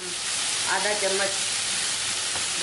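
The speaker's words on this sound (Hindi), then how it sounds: "प्याज को हल्का सा भून लिया हमने, अब हम इसमें लंबी कटी हुई शिमला मिर्च डालकर अच्छी तरह भूनेंगे।" Long-cut onion and capsicum fry in a pan, giving a steady, close sizzle with a soft stir in the middle and no talking.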